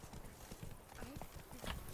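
In The Witcher 3: Blood and Wine, an armored horse clip-clops in a steady, quick hoofbeat rhythm over a busy, noisy game background.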